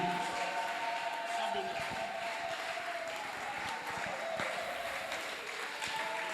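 Church congregation applauds and cheers to welcome an apostle, a sustained wash of clapping and crowd noise at moderate distance, with talking mixed in throughout.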